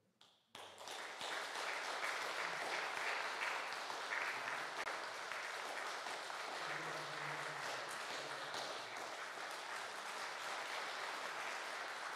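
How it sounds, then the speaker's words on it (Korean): Church congregation at a Sunday worship service in Gireum-dong, Seoul, gives sustained applause, a dense, steady clapping from many hands that starts abruptly and continues for about eleven seconds without talk. "격려 박수 쳐주시면 감사하겠습니다"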